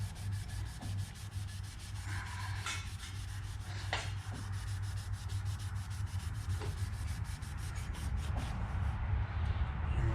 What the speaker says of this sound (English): red Scotch-Brite, put it around the tube, and you're just gonna twist the tube and slide up at the same time